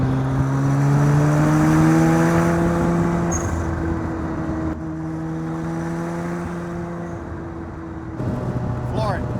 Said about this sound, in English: Man, that boost. Just a little turbo wants to just peel out.